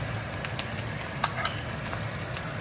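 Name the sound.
Chinese sausage sizzling as it is added to the pan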